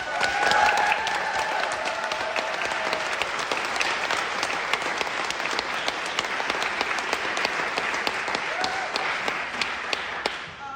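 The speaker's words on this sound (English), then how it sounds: "So can we just literally clap for ourselves?" Sustained applause from a large audience at a women-led business event, dense clapping filling the whole stretch at steady loudness with a few sharper claps standing out.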